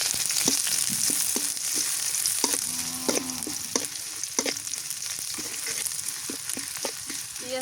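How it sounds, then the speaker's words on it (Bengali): Rohu fish frying in mustard oil on a clay stove, a steady close sizzle broken by regular clicks and scrapes of stirring throughout. "মাছটা লাল লাল লাল করে ভাইজানি"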